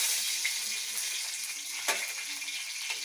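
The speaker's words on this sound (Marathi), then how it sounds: "फोडणीला मी थोडंसं तेल टाकणार आहे." A single chilli fries in a little hot oil for a tempering, giving a steady close sizzle with a few soft pops and one sharp crackle midway.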